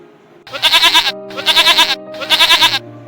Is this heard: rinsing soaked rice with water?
no